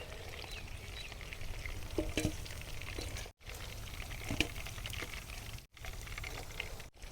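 Chicken lollipops fry steadily in hot oil, giving a continuous bubbling sizzle with a few sharper crackles and pops. It stays close and fairly quiet, with no voices.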